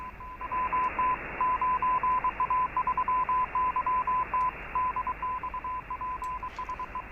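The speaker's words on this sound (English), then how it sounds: "that's Morse code." Morse code tones picked up on an SDR radio receiver: a steady single-pitch beep keyed on and off in rapid dots and dashes, clear over a bed of static hiss.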